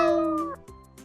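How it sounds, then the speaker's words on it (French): A cartoon cat in a French children's learning show gives a single drawn-out, clear meow that falls in pitch and then trails into a short second mew, close and alone. "Il miaule avec tant de grâce."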